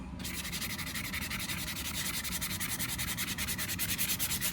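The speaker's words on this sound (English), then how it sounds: "just gonna sand it to get it as smooth as possible" Sandpaper rubs steadily over a glitter-coated tumbler to smooth its surface, giving a continuous close scratchy hiss with a faint back-and-forth pulse and no talking.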